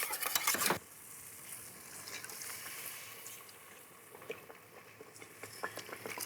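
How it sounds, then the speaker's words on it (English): A thickening sauce for Danish tarteletter is whisked in a pot, with a soft, continuous wet stirring rustle and faint clicks after a brief louder clatter at the start. There is no talking. "So now we're gonna whisk this up, and you see it thickens immediately"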